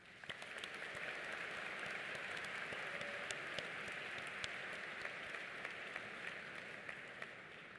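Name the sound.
audience applause for graduates watching remotely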